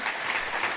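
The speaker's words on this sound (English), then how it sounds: "Let's give him a quick little round of applause." Audience applause at a climate panel discussion, a short steady burst of clapping from a room full of people, dense and even, with no voices over it.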